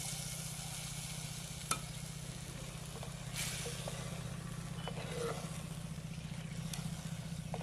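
Steady frying sizzle in a village kitchen pan of chili mixture as milk goes in, a dense continuous hiss with a few faint clinks over a low rumble, no talking.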